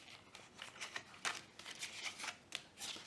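Playing cards being laid down one after another on a table during a probability lesson, a quick run of soft, light slaps and flicks at an uneven rhythm, close and faint, with no talking.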